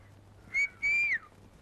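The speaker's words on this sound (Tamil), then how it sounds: "எதுக்காக விசில் அடிச்சு கூப்பிட்டீங்க" A person whistles twice to call someone in a Tamil comedy film scene: a short high note, then a longer one sliding downward, clear and close over quiet room tone.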